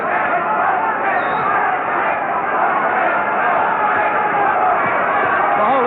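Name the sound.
boxing crowd jumping to their feet and cheering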